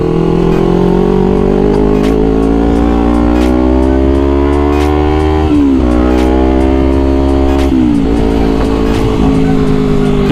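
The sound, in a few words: Honda CBR250RR motorcycle engine revving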